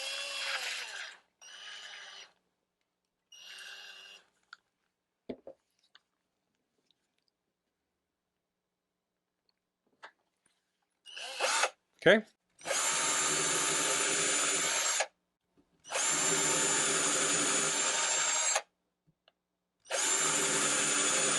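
An Altocraft 20V cordless drill bores a pilot hole in wood with a 1/8 inch bit, a close, loud whirring in several bursts separated by pauses, the longest runs coming near the end.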